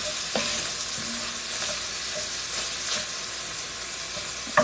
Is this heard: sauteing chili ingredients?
yes